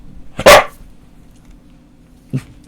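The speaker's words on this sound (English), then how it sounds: "He barks a lot." One loud, close dog bark rings out, then a short, softer yip follows about two seconds later, in a quiet indoor podcast room.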